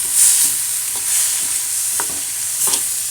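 Tomatoes sautéing in a pan for carrot chutney, a loud continuous hiss of frying with a few soft spoon taps and stirs, no voices.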